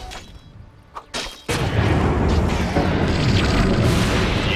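An explosion spell goes off in a Dota 2 esports match. After a couple of short thumps, a loud, heavy boom bursts in and keeps roaring as a dense, sustained blast for several seconds.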